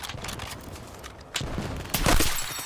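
Gunfire in Battlefield 6 crackles close and loud, a dense rapid volley with sharp cracks and booming reports that builds toward the end, heard alone with no talk.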